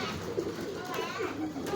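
Racing pigeons coo in soft, repeated low calls close by, with a few faint voices in the background.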